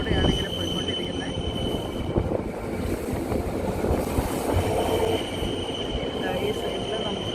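Steady rumble and clatter of a train travelling through the snowy Swiss Alps, passing beneath a bridge, with faint wheel squeal and a continuous hum throughout.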